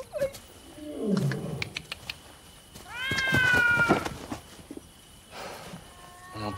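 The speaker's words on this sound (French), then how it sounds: "On est entouré d'animaux sauvages, toi t'as peur d'un chat ?" A cat gives a couple of short, close meows, one drawn-out and wavering, between scuffling sounds in a setting surrounded by wild animals.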